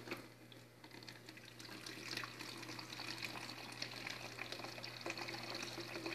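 Water drawn from a hot tank tap into a jug during cleaning, a faint steady trickling pour that swells slightly as it fills, with no talk.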